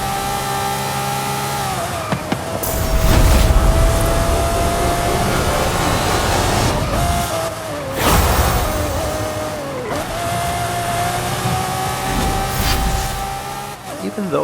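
A Volkswagen Andretti Beetle engine drones and revs continuously in an off-road racing video game, with rising and falling pitch shifts and skids, loud and close under a talking voice.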